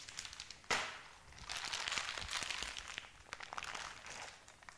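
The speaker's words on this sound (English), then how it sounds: "So I'm gonna just chop the corner open like this." A wine kit bag's corner is snipped open, a sharp crinkle of plastic followed by soft crumpling and rustling handling noises, close and quiet.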